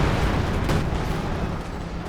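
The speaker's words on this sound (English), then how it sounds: "big punch from the AT guns" Anti-tank guns firing in a Company of Heroes 2 battle, a dense, rumbling barrage of booming shots and impacts layered continuously through the scene, loud and close with no distinct gaps.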